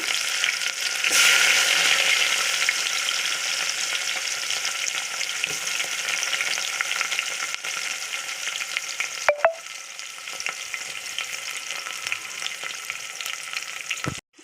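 Sliced onions frying in oil with mustard seeds, fenugreek and cumin, a continuous close sizzle and hiss that flares loudest early on, with occasional clinks and scrapes of a stirring spoon against the pan.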